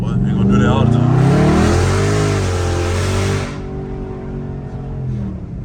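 A loud Dodge Charger Scat Pack accelerates hard in a neighborhood street, its V8 roar climbing in pitch, then easing off to a lower rumble as the pull ends.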